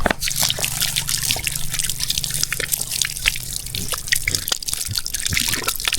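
Water splashes and drips into a container while washing noodles, a light irregular trickle with scattered droplets, close by and steady.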